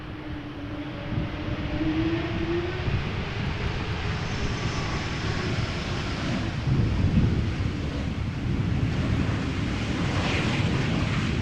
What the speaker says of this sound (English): This is KLM flight 1316, E2 Embraer 195 arriving from Bordeaux.